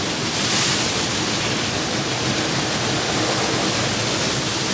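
Water spraying hard from the wheel wash of an Istobal M'NEX22 car wash, a loud, steady, broadband hiss close by that never lets up, with no talk.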